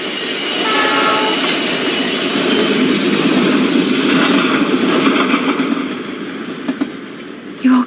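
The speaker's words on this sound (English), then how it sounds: "The train's coming!" In the video game Life is Strange Remastered, a train rushes past loudly with a heavy roaring rumble that swells, then fades and ends with a short horn-like tone.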